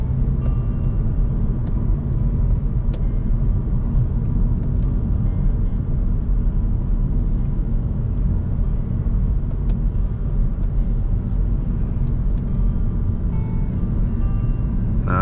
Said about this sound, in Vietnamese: Bây giờ lái xe vô thôi